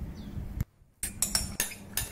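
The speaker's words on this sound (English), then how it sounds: "use a metal spoon to scrape the fish meat from the skin" A metal spoon scrapes minced-style fish meat off the skin while making yong tau foo at home, giving several short, sharp scraping strokes with a brief silent pause between them, close and fairly loud.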